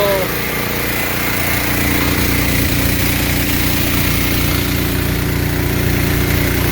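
A Wen generator runs an air conditioner, its loud, steady engine rumble close and continuous, with slight dips in tone where it bogs under load.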